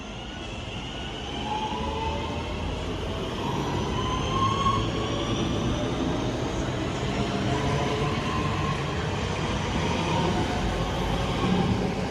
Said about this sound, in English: Right again now is the 10:54 Northern service from Manchester Airport to Blackpool North.